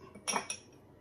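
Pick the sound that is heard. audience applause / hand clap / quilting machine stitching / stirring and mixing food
stirring and mixing food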